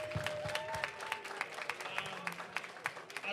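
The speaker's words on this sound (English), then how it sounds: "I just want to give a big round of applause to our volunteers." A crowd at a session gives the volunteers a round of applause, a steady patter of many hands clapping at moderate distance throughout.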